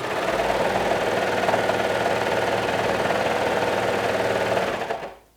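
A sewing machine stitching a half-inch seam allowance on fabric, a fast steady mechanical whir with rapid needle ticking, close and even for about five seconds before it slows and stops.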